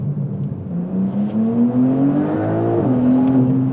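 A 1000-horsepower Porsche 911 Turbo S engine climbs steadily in pitch while driving, a close, loud rising drone that eases back briefly before pulling again, heard from inside the car.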